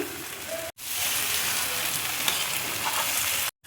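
Gobindobhog rice and raisins tipped into spiced masala frying in a pan, giving a steady, close, loud sizzle that runs almost the whole clip, broken by two brief dropouts.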